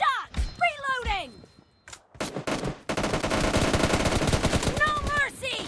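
Gunfire in a team deathmatch round of a shooter video game, with rapid automatic bursts and single shots, loud and close, mixed with in-game voice callouts.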